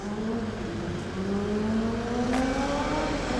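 A motorcycle passes on a Tokyo street, its engine drone rising in pitch as it goes by amid steady city traffic noise.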